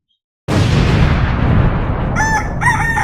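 A sudden loud blast of noise opens, then a rooster crows sharply twice near the end, close and clear over the rumble.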